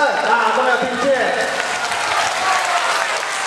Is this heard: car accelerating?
no